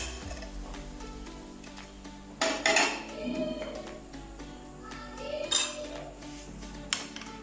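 Raita of onion, cucumber, green chilli and capsicum being mixed in a bowl with a spoon, with repeated clinks and scrapes of metal on the dish over a quiet background, close and moderately loud.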